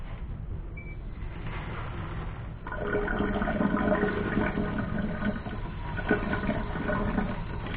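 Shower water switched on and running down a previously slow, clogged shower drain, a steady rushing flow that builds after a quieter start and keeps going at moderate loudness.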